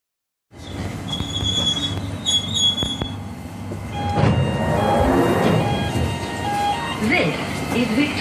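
London Underground train rumbling along with loud, drawn-out wheel squeals and screeching tones over a heavy mechanical roar, heard close from inside.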